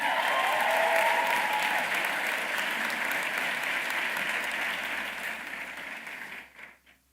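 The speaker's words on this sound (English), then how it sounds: "One more time for a round of applause for her." Sustained audience applause fills a graduation ceremony hall at Thurgood Marshall Academy, a dense wash of many hands clapping at steady volume before tapering off near the end.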